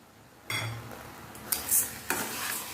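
Spoon stirring grated coconut and about one and a half cups of sugar in a pan for Bengali taal kheer, with soft scraping strokes and a few sharper clinks against the metal.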